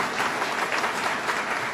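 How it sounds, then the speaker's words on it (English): An audience at a Western New York business expansion announcement by Governor Cuomo breaks into steady applause, a dense, even patter of many hands at moderate volume that carries through without a pause or voices on top. "You can clap at that."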